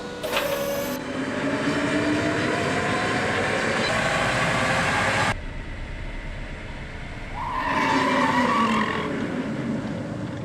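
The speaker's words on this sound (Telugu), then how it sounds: "బ్రేక్ పనితీరు నిర్ధారించడానికి రోల్ అండ్ బ్రేక్," A Tata electric car runs on a roll-and-brake test rig in a factory, giving a loud, steady mechanical whirring drone that stops abruptly partway through and then returns in a shorter burst near the end.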